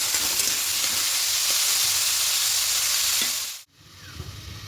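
Semolina chowmein ingredients with peas frying in a pan, a loud steady sizzling hiss with faint stirring taps that cuts off abruptly near the end, leaving quiet room tone, no speech.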